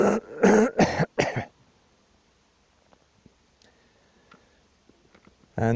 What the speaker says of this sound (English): it's not really a dry cough.